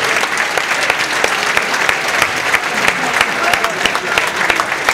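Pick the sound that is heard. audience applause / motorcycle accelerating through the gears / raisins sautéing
audience applause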